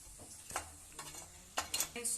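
Village-style brain and egg fry being stirred and fried in a pan, with soft sizzling underneath and a few sharp scrapes and clinks of a utensil against the pan, close and fairly quiet.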